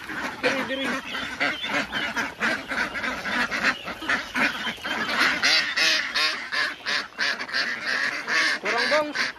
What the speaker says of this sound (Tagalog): Magkaon natin mga itik.